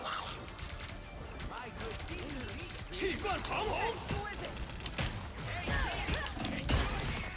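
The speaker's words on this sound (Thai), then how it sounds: "ตุ้มระเบิดนะครับผม ดาเมจอย่างแรงนี่" A bomb goes off during a match of the video game Marvel Rivals. Sharp crashing blasts come amid a hectic stream of game effects, and a person talks excitedly over them.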